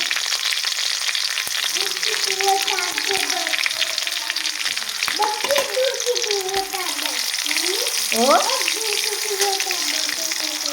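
Green chillies fry in hot oil with curry leaves for upma, a continuous close sizzle and crackle, while a voice speaks over it in the background.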